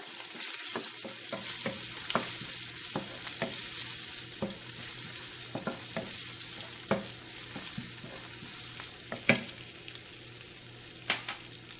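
Ginger garlic paste with salt fries in a hot pan for venison, giving a constant close sizzle broken by regular sharp spatula scrapes and taps.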